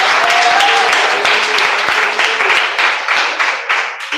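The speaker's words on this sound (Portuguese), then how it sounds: "E bate palmas." A church congregation claps hands together in a loud burst of applause, with a voice briefly calling out at the start before the clapping carries on and thins toward the end.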